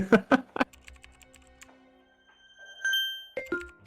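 Keyboard typing in a video game, a few loud close clacks at the start followed by lighter scattered taps, a pause, a short rising electronic tone and a final burst of key clicks.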